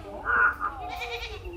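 A goat gives a short nasal bleat, close and fairly loud, in a rural comedy scene, followed by a brief wavering tail as the sound fades.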